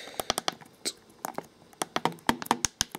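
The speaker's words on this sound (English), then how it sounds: "Oh my god, my typing skills are getting worse." Quick, irregular clicks of fingers typing on the small built-in keyboard of a Pocket C.H.I.P handheld computer, close and crisp, with short bursts of keystrokes separated by brief pauses.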